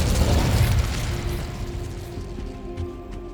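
In Hogwarts Legacy on PS5, an Incendio fire spell goes off as a loud, close burst with a booming whoosh that slowly fades away.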